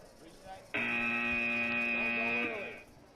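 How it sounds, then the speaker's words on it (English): The start buzzer at a VEX IQ elementary school robotics competition blares once, loud and sustained for nearly two seconds, then fades, with faint arena chatter before it. "Make sure that the robots do not move until you hear the buzzer."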